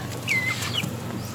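Chickens give a couple of short, high-pitched calls over a steady outdoor hum, fairly close by, at a small backyard chicken farm beside a house.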